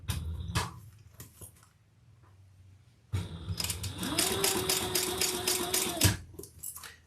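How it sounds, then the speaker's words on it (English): A sewing machine stitching down the sides of a leather clutch wallet, a steady rapid mechanical whirring run of about three seconds after quieter handling sounds, close and alone. "we're going to stitch down each side"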